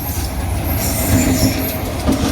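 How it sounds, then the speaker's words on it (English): A train runs through a station platform without stopping, loud and close, with a dense metallic rumble, rhythmic wheel clatter and a thin squeal over the rails, and no voices. "the train approaching platform 3 is definitely not stopping here"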